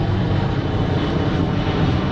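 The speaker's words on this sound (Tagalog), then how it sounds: "Yun, may aeroplano pa." An airplane flying overhead makes a steady, loud, broadband engine roar that holds constant without letting up, with no voices heard.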